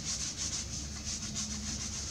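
Sandpaper wrapped around a small magatama bead rubs back and forth in quick repeated strokes, a close, fairly quiet rhythmic scratching with no talking.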